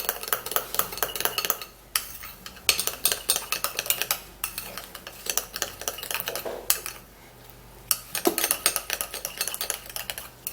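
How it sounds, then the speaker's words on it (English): A spoon mixes grated potato and yogurt paste in a bowl, making rapid rhythmic scraping and clinking against the sides with brief pauses, close and without talk. "Now we would have to mix this all up and mix it really well."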